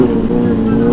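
A loud two-stroke motorcycle engine drones close by with a steady low rasp, heard from traffic on a city street.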